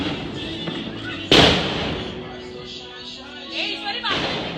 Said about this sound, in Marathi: फटाके मोडत आहेत